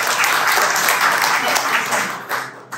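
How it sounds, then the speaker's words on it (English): An audience claps in response to a request from a stand-up comic, a dense steady wash of applause that holds for nearly three seconds before thinning out at the end. "can you just clap if you have school-age children also right now?"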